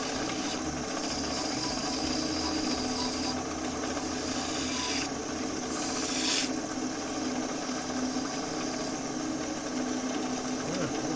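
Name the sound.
sandpaper sanding a wood turning on the lathe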